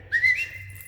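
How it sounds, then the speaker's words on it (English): A person whistles at a dog during group down-stay obedience training, one short rising whistle followed by a held tone, close and clear over a quiet low hum. "I will whistle at your dog."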